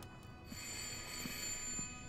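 An in-game telephone rings in the horror game Layers of Fear (2023), set around a lighthouse, giving a continuous, fairly quiet bell-like tone over a low background drone without speech.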